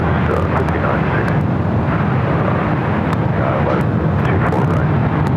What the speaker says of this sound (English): This flight heading to Seattle, flight 1301, a 737-900.